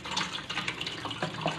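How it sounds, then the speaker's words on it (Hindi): Cold water pours over sago pearls sitting in a strainer, a steady broadband splashing and trickling that lasts the whole moment, close by with no voices. "ये हमने इस पर ठंडा पानी डाल दिया।"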